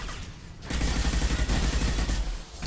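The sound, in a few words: Inferno grenade exploding in Mass Effect 2 video game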